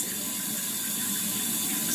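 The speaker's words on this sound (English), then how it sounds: "splash water" Running water streams steadily into a sink for rinsing the face. It is a close, continuous rushing hiss for about two seconds, with no talking.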